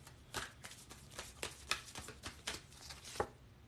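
Tarot cards being shuffled by hand during a reading, a quick run of papery riffles and soft slaps repeating steadily at close range, with no talk.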